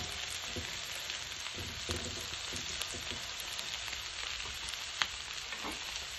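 A steady, quiet sizzle of pepper frying in a pan for a chicken and cabbage stew, with a few faint stirring ticks and no voices.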